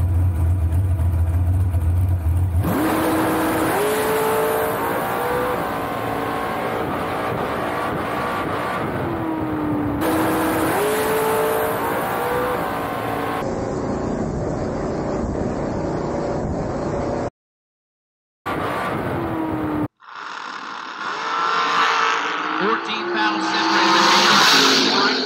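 A drag race car roars down the strip at full throttle, engine note rising as it accelerates, with loud continuous motor noise and a brief dropout near the end.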